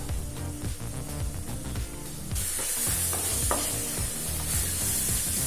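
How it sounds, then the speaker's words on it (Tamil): Spiced masala with chilli powder, coriander powder, turmeric and garam masala is sautéed in a pan. A spatula stirs it with repeated scraping and knocking over a soft sizzle that grows louder partway through. No one speaks. "ஒரு நிமிஷம் வரைக்கும் நல்லா வதக்கிக்கலாங்க."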